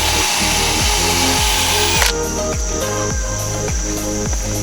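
A power drill sands a car headlight with 500-grit paper from a 3M restoration kit: a loud, steady whine with a regular pulsing rhythm close by, and no voices.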